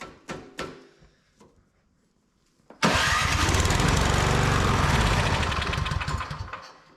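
A Craftsman MTD snow blower engine gives a few sharp pulls and knocks, goes quiet, then fires and runs loudly with a rapid rattling chug for about four seconds before tapering off.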